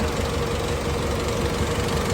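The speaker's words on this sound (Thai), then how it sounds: "ตอนนี้สตาร์ทเครื่องยนต์แล้วนะใส่เกียร์เข้าไปเสร็จเรียบร้อยแล้วนะครับ" The diesel engine of an Isuzu D-Max pickup with a 4JK1 engine idles nearby in gear, a steady, rumbling, continuous low throb with a faint knocking texture and no voices.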